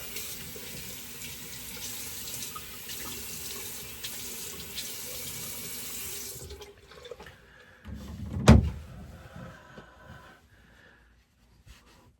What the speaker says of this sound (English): Let me just do a quick rinse.